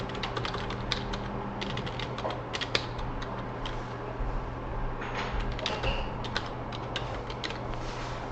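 Rapid, steady typing on a computer keyboard, a dense stream of close plastic key clicks with no voices.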